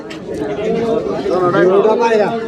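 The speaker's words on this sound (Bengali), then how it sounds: "এই যে কাকা আছে এক জোড়া মক্ষী কবুতর" A pair of pigeons coo in low, rolling calls close by at a busy pigeon market in Tangail, Bangladesh, with people talking and bargaining over them throughout.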